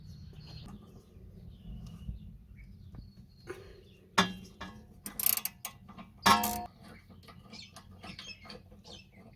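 A ratchet loosens a 12mm bolt on the rear brake of a Honda Prelude, giving a few short bursts of rapid metallic clicking close by over a quiet background.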